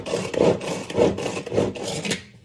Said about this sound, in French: je vais hacher pour faire une purée de bananes